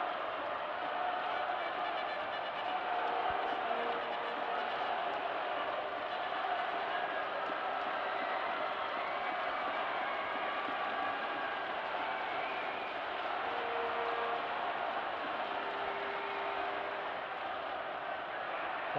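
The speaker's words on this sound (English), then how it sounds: "the Oakham crowd on their feet, getting right behind their team" A school rugby crowd at Twickenham cheers Oakham School in the U15 Vase final, a steady, dense wash of distant voices and roaring support that holds throughout with no letup.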